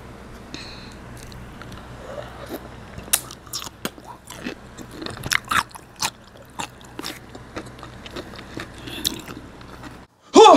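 Crunchy biting and chewing of pickles in an ASMR recording, with irregular close bites and chews over a faint low hum, ending in a sudden loud burst.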